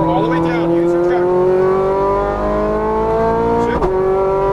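A Ferrari 430 Scuderia on a racetrack at Exotics Racing, Las Vegas, accelerates hard at full throttle. The engine note is loud, close and steadily climbing in pitch, with a brief break near the end, and a voice is heard over it.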